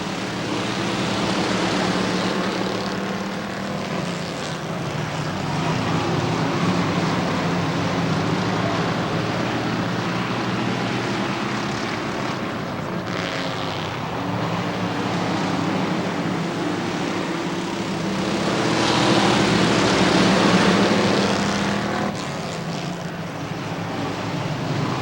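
Stock cars at Rockford Speedway roar off the green flag out of turn four, a dense, sustained engine drone that swells and surges as the field thunders past, loudest toward the end.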